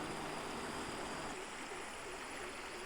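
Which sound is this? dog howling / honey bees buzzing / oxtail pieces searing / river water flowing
river water flowing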